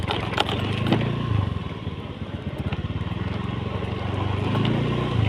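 A motorcycle rides over a bumpy, pothole-strewn road, its engine droning steadily and close while the exhaust note rises and falls with the jolts.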